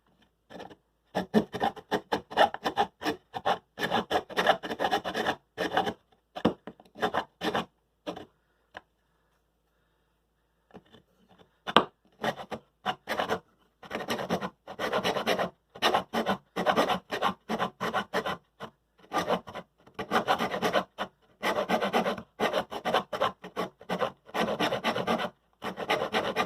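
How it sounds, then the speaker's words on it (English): Hand filing to open up a hole in a project case for an AGON Light 2 board: repeated rasping strokes in bursts, close and steady, with a brief pause midway before the filing resumes. "we need to file it down almost flat to the bottom everywhere along"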